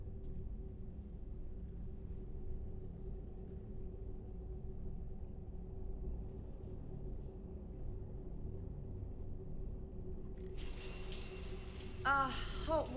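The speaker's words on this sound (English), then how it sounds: "I figured you'd be more interested in a shower" A shower runs steadily in a Mass Effect 3 cutscene, a continuous low hiss of falling water, with a higher tone and a faint voice joining near the end.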